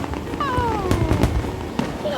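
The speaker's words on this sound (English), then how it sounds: "Don't you love the fireworks?" Fireworks exploding over Waikiki, Hawaii, a few sharp bangs and crackles under close, continuous talk and exclamations from people watching, with a whistling rising tone among them.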